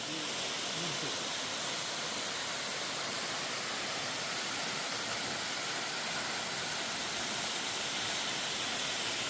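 Steady rushing water from Çamlıca waterfall in a valley near Alanya, a broad, constant hiss heard at a moderate distance with no voices.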